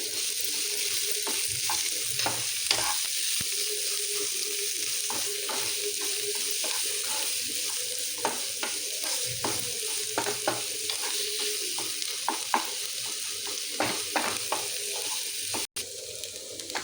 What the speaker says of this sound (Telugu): ఆనియన్స్ వేసి ఇవి కూడా లైట్గా దూరగా వేయించుకోవాలి